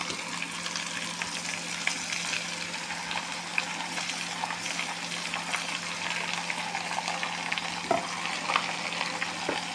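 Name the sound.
marinated meat stirred and fried with onions in a pan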